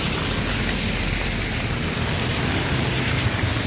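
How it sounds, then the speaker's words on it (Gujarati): Steady rain falls in a continuous, loud hiss with a dense wash of drops and no voices over it. "વરસાદ તો"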